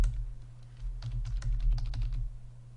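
Fingers type steadily on a computer keyboard while entering numbers into a spreadsheet, a quick run of close, crisp key clicks over a low steady hum, with no talking.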